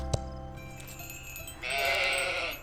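Sheep bleating in the video game Old Man's Journey, a single drawn-out bleat rising clearly over soft ambient game music, moderately loud and alone with no talk.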